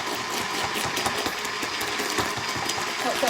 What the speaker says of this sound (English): It's called a hand blender